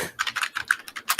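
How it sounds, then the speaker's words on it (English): Rapid bursts of keystrokes on a computer keyboard during a tabletop role-playing session, about eight or nine crisp clicks in uneven quick clusters, close and clear with no talking. "You were typing all that in for me"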